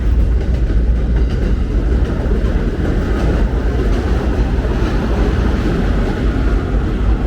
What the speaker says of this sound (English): Now look, guys, an inspector train.